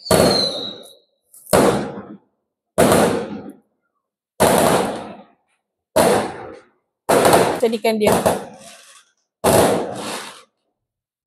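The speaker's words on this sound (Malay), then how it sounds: "Terkejut saya bunyi mercun" Seven sharp, loud bursts at roughly even intervals, each a broadband crack with a short decaying tail, like firecrackers popping nearby, with brief speech in between.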